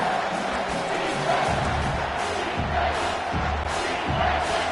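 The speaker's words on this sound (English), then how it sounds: "this crowd will blow out a vocal cord to help this defense." A packed college football stadium crowd roars loudly on third down as South Carolina hosts Arkansas, a sustained wall of cheering and yelling that swells in waves with a faint voice under it.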